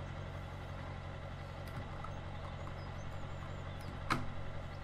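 Steady low rumble of a truck engine idling in Farming Simulator 17, with a constant drone, faint background tones and a brief louder knock near the end, no talking.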